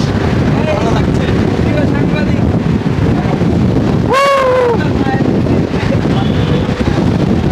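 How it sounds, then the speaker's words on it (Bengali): Strong wind rushes past on a bus ride along the Dhaka airport elevated expressway, a loud, steady buffeting roar filling the whole stretch, with a brief tonal, voice-like sound cutting through near the middle. "প্রচুর বাতাস প্রচুর বাতাস অসাধারণ"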